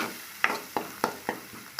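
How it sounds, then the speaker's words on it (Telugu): Chicken masala frying in a pan with a spoon stirring it, giving a soft steady sizzle broken by regular scraping taps about every quarter second, close and fairly quiet, with no talking. "ఇలా ఫ్రై చేసుకోండి."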